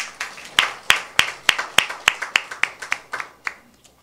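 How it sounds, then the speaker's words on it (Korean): A small audience at a debate forum claps, about a dozen distinct, fairly loud hand claps in a quick steady rhythm that gradually fade out over roughly four seconds. "큰 박수로 맞이해 주시기 바랍니다."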